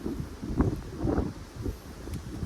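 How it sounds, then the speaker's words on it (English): Gusty wind at a lake buffets the microphone outdoors, a low rumbling roar that rises and falls in uneven pulses. "I mean, it's really windy right now."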